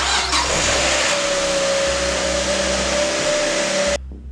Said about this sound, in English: And now starting the car.